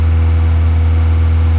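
A 1992 Honda Civic engine is held at high revs, a loud, steady drone recorded up close with no pause or change in pitch.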